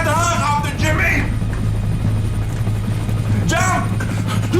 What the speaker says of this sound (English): We gotta catch the helicopter, Jimmy!